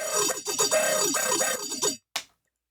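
A layered synth main bass built from the Trilobite 2 and an FM'd square wave growls in a loud, continuous wobbling stretch, then cuts off and gives one short final stab.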